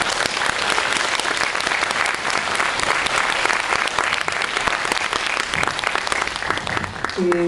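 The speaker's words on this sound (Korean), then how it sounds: "박수로 좀 맞이해 주세요" Sustained applause from an audience welcoming bereaved families at a Sewol ferry book concert, dense and steady clapping throughout, loud and close, with a brief tonal sound near the end.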